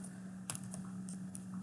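Keys being typed on a computer keyboard, a quick run of soft clicks over a steady low hum, ending in a slightly louder tap.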